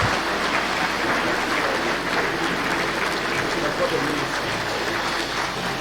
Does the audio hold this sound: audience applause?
yes